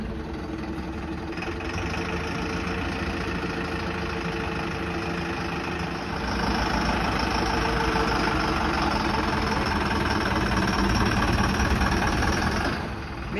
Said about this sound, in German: jetzt werden die Motoren wieder angelassen